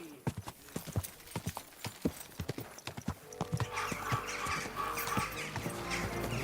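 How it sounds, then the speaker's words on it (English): Horse hooves in the video game Kingdom Come: Deliverance 2 clip-clop in a quick, uneven rhythm, fairly close, joined midway by a steady rumbling bed of ambient game sound. "Your horse nearly trampled me!"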